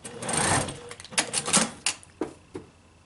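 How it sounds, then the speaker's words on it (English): A sewing machine stitches a fabric face mask in short bursts of rapid mechanical whirring and clicking, close and fairly quiet, with brief pauses between runs. "I like to sew it down about a ½ inch. We're just tacking it on so it stays in place."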